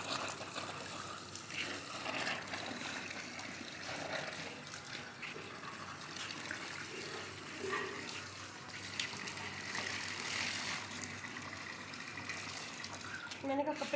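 Tap water trickles slowly into a household storage tank, a soft, steady splashing wash that continues throughout at low volume, with faint background noise around it.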